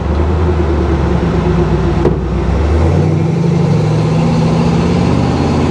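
A 1956 Chevy truck engine with a Predator carburetor, running cold, revs up steadily from a low rumble, loud and close, with a continuous throaty drone and no talking.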